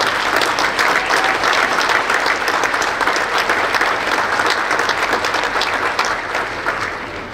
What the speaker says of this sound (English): I think that we owe a round of applause to the federal government workers who continued to work